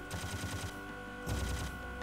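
Rapid bursts of automatic gunfire from the video game Serious Sam 2 rattle close and loud, two quick strings of shots separated by a short pause.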